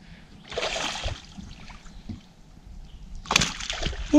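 A caught fish thrashes at the surface of Kahshe Lake while fishing the drop-offs, giving two separate bursts of close splashing water with quieter lapping between them.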